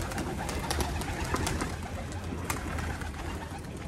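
Pigeons in a loft coo and rustle continuously, a dense, close bed of low cooing with scattered sharper calls and wing or body noises throughout, no voices.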